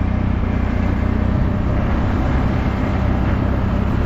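Quad bikes (ATVs) riding along in a horse parade cavalcade, a loud, steady broadband engine roar with low rumbling throughout, close and continuous without pause.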